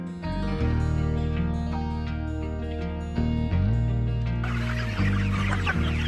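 Free-range chickens on a hillside farm cluck under trees. The bird calls are repeated and continuous, set against a full, steady background.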